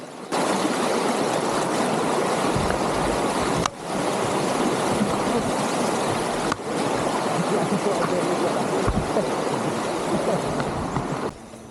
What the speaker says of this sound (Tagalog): Napakalamig, napakalinis ng tubig galing sa kabundukan ng Sierra Madre.